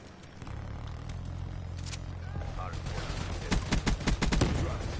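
Video game gunfire crackles in bursts of rapid shots, growing louder toward the end over a steady low rumble of in-game ambience, with a player's voice talking intermittently.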